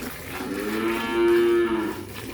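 A cow on a farm lets out one loud, drawn-out moo, close by, lasting about a second before fading into quiet background.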